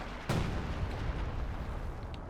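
A single deep artillery boom from the video game Company of Heroes 2 thuds out early, followed by a low rumbling tail and scattered distant battle noise.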